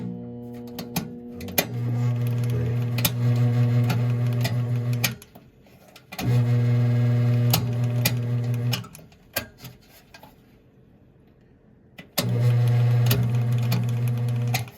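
A replaced GE box fan motor runs in three steady bursts of about four seconds each, with a strong low hum and a fast ticking rattle, separated by quieter gaps.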